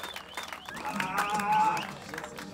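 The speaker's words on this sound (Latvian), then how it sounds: "Skaļus aplausus, plaudējam" Applause and crowd noise from a live show audience as a contestant is called onto the stage, a steady wash of clapping at moderate loudness with some voices mixed in.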